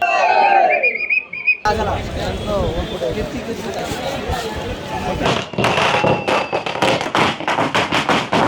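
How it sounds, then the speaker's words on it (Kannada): Crowd of fans packed outside the Veeresh theatre on release day of the film Mark, a loud dense roar of cheering and babble with bursts of firecracker-like cracks and a shout near the start. "ಎಷ್ಟು ಜನ ಕ್ರೌಡ್ ಸೇರಿದ್ದಾರೆ."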